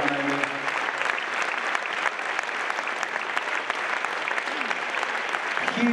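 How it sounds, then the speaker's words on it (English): An audience at a singing competition final in Norfolk applauds and cheers the runner-up, dense sustained clapping filling the room steadily from start to finish. "But our runner-up tonight, a big, massive cheer, Miss Amy Morris."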